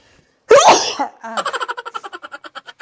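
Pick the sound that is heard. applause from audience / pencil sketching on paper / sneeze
sneeze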